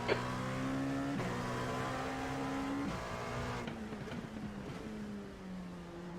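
Race car engine in the iRacing sim during an IMSA race at Daytona, a steady droning whine with several harmonics that shifts pitch as another car closes in, continuous and fairly loud with no talk.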